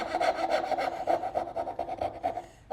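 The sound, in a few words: hand saw cutting wood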